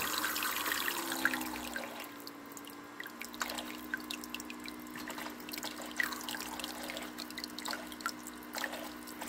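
A faulty ice maker squirts and drips water in quiet, irregular patters and trickles, with a faint steady hum underneath; close but soft, with no voices.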